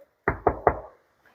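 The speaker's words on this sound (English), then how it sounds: "I can start to add in a knock or a doorbell" Three firm knocks on a door ring out in quick succession, close and loud, each with a short resonant thud, followed by near silence.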